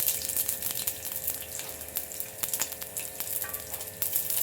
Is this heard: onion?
yes